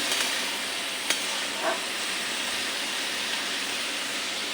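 Spices with pasta masala frying in a pan, a continuous close sizzle with a soft hiss, interrupted by a brief tap and a faint scrape of stirring, with no talking.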